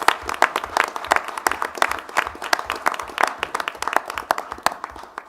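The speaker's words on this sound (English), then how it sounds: "Let's give these young people some round of applause." Steady applause from a crowd, many hands clapping densely and continuously for several seconds, fairly close.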